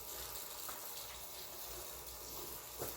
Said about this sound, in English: So I'm trying to water as evenly as I can.